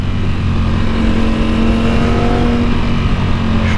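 Ducati Diavel motorcycle ridden in street mode, a steady loud engine drone with a faint tonal whine holding level, heard close and continuously with no talk.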